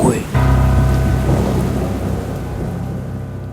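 Heavy rain pours steadily while a deep rolling thunderclap breaks in near the start and rumbles on for the rest, with no voices, set as an effect in a pocong horror story from 1996.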